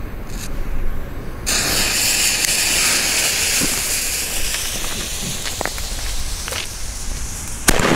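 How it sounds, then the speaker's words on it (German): Pipe-bomb firecrackers set off on a street on New Year's Eve give a sustained, loud spraying hiss with a few sharp pops and crackles scattered through it. "Ja, das sind Bombenrohre, würde ich sagen."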